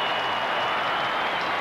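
A crowd applauds after the Richmond versus Geelong Australian football match, a steady broadband wash of clapping and crowd noise that holds at an even level throughout.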